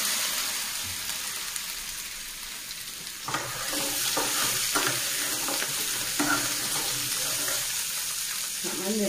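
Taro corms (kochu mukhi) fry in hot oil. A quiet background hiss gives way to a louder, busy sizzle with bubbling and crackling once the pieces go in, and stirring noises run through it.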